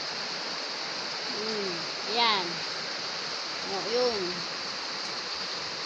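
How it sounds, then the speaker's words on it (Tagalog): During heavy rain, floodwater flows in a steady hiss of rushing water and rainfall. A person speaks briefly twice over the continuous wash. "Pag umuulan, ulan ang ulan. Ayan na ang tubig, malapit na."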